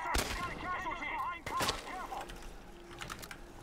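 Gunfire from an elite sniper shooting through a window in the video game Chernobylite: a few sharp shots, with a loud crack near the start and another midway, over busy game noise and tones.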